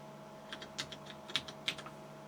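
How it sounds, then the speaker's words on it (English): Keystrokes on the keyboard of a Siemens PG-730 PLC programmer as the fdisk command is entered: about a dozen quick, light clicks in an uneven rhythm, close and fairly quiet, over a steady electrical hum. "so we'll type fdisk,"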